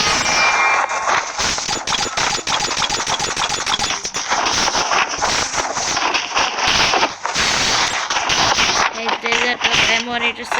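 Automatic APS rifle fire in a video game, dense rapid bursts of gunshots running almost continuously and loudly, layered with clanking game effects and a voice talking over it.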